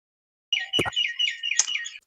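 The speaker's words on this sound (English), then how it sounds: "I hear birds." Bright, rapid bird chirps trill in a continuous run after a short silence, close and fairly loud, with a brief low thump partway through and no talking.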